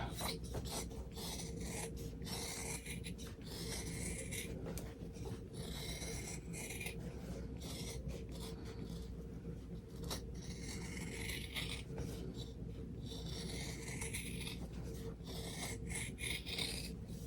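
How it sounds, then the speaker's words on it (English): Scissors cut around the edge of an in-the-hoop embroidered apple mug rug, a steady, continuous rasping of snipping through layered fabric and batting that runs close and unbroken with no talk. "now I'm just gonna go ahead and cut all the way around"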